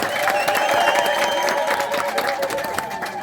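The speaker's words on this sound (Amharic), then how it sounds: "ለሙሽራ እንደዚህ አይነት ጭብጨባ ተጨብጭቦ አቅምና ካጨበጨባችሁ በደንብ አጨብጭቡ።" Wedding guests clapping and cheering for a bride and groom, a dense, steady crowd applause that keeps going throughout with some voices mixed in.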